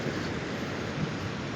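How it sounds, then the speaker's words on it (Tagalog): Steady broadband rushing of sea surf near Patapat Bridge, a constant wash of noise with no distinct breaks, moderately loud and without voices. "naririnig nyo naman siguro yung yung tunog ng dagat"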